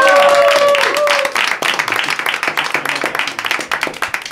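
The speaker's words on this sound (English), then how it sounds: "All right, a big round of applause for Juan." A comedy club audience breaks into loud applause, dense rapid clapping that carries on steadily after a brief tonal sound at the start.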